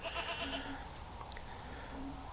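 Oreo, a mother goat on a goat farm, bleats repeatedly for her lost kids, with several wavering calls at moderate distance over a noisy farmyard background.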